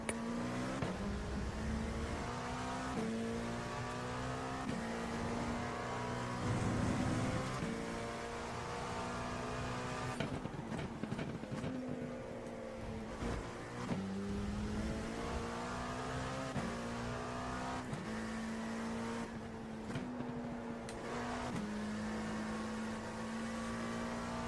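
A race car engine in the iRacing video game holds a sustained, droning tone at full throttle, with repeated revving and downshift blips over about twenty seconds.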